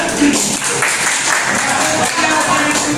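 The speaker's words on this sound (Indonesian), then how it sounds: "Tepuk tangan dulu nak." Students in a classroom clap together during a teacher's performance assessment session, a steady broadband patter of applause lasting a few seconds with voices talking over it.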